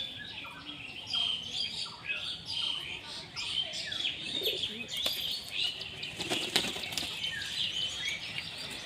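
A pigeon flaps its wings in noisy bursts, with chirps and other bird calls scattered around it and faint voices in the background.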